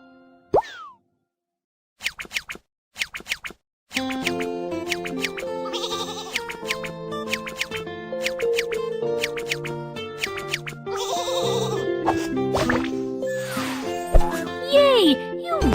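A cartoon sheep in the Baby Panda farm game bleats a few times amid chirpy game music, plops and boing effects, a short bleat near the start and more cartoon calls later over the steady tune.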